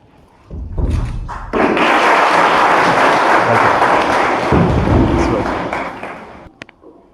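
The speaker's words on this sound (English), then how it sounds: "So a big round of applause." An audience at a college interaction event with an IIT Delhi student breaks into a big round of applause, a dense, loud clapping that starts abruptly, holds for several seconds and tapers off near the end.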